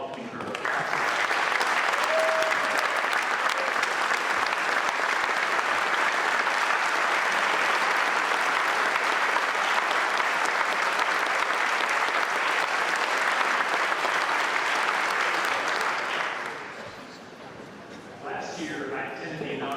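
Sustained, dense audience applause welcoming Governor Gregoire at a state of the State address, loud and steady for about sixteen seconds before tapering off.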